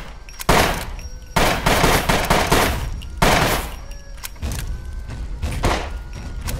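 Gunfire in the survival video game SCUM: several loud, close bursts of shots and heavy impacts in irregular clusters, each with a sharp onset and a ringing tail, with no talk.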